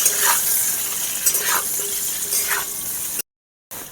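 Potatoes fry in oil with salt, turmeric and Kashmiri chilli powder: a close, hissing sizzle broken by a few stirring scrapes, then a short silent gap near the end.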